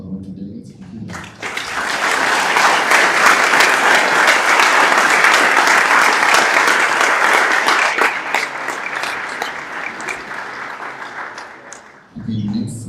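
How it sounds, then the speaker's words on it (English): Loud, sustained applause from an assembly audience at a general council meeting, rising quickly and holding steady for about ten seconds before tapering off, with brief talk before and after. "a big applause for our two delegates"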